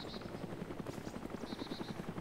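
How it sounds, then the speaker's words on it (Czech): A helicopter in the DayZ video game gives a loud, steady rotor chop that thuds in even, rapid pulses for the whole stretch, with no voices over it. "Další vrtulník."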